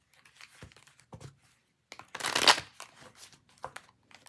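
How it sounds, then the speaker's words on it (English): Quick bursts of papery shuffling of a brand-new tarot deck, with a louder, sustained riffle in the middle and softer flicks and taps around it, close by. "Let's give them 2 shuffles."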